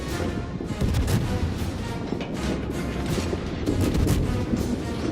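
A Minotaur cruiser's guns fire continuously at a rapid rate in a World of Warships naval battle, with a dense, loud barrage of overlapping booms and no gaps between shots.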